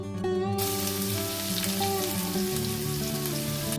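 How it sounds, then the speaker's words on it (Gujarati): Finely chopped onion drops into hot oil already spiced with cumin and asafoetida for a potato curd gravy shak, a loud, steady sizzle that flares up suddenly and keeps crackling close by without letup, with no voices. "પછી આપણે જે એક ડુંગળી ઝીણી સમારીને રાખી હતી એને એમાં એડ કરશું."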